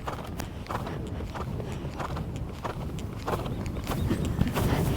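Horse hooves clip-clopping in a steady rhythmic gait during a dressage warm-up, close and fairly loud throughout.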